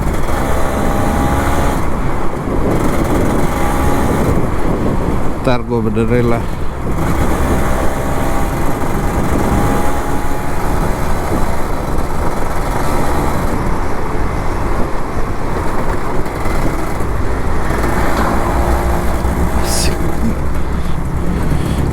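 On an open road, a Kawasaki Ninja RR 150 two-stroke motorcycle runs steadily under heavy wind noise, with passing traffic and brief spoken remarks from the rider.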